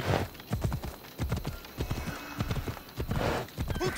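Horse hooves clip-clop steadily at a riding pace in Assassin's Creed Odyssey, a close, rhythmic run of beats with brief gaps, no talk over it.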